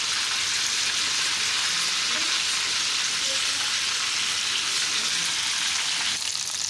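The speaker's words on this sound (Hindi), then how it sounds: "साइड हमने चेंज कर ली है और इसको हम करेंगे गोल्डन फ्राई" Chicken tandoori pieces fry in a pan after being turned, giving a steady, loud, dense sizzle with faint crackles throughout and no voices.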